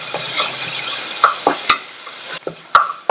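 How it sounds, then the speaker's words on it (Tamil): Ground garlic, cumin and green chili paste fries in melted butter in a pan, with a steady sizzle broken by several sharp stirring scrapes and clinks, close and fairly loud, no talk. "பட்டர் உருகினதும் நம்ம மிக்சியில 1-2 அரைச்சதை சேர்த்துட்டு இத வெண்ணெயிலேயே லைட்டா வறுத்து விட்டுக்கங்க"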